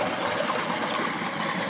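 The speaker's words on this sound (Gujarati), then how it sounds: "બોર પણ ચાલુ" Water gushing steadily from a running borewell pump onto a farm field, a continuous close, even splashing flow with no voices.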